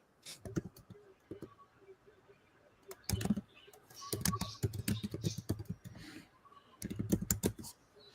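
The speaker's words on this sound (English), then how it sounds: "Man, that's angry typing." Fast, forceful typing on a computer keyboard in bursts of hard clacking keystrokes, some pauses between runs, close and fairly loud, with a faint voice in the background.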